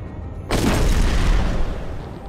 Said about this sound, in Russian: Я говорил, взрывной впуск!